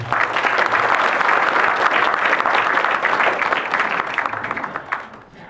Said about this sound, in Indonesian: Tepuk tangan dulu dong buat teman-teman semua.